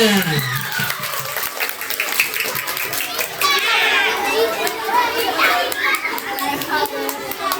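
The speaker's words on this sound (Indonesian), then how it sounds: "Tepuk tangan untuk semuanya" Schoolchildren at a Maulid Nabi celebration clap together, a busy burst of close hand claps mixed with excited young voices and chatter.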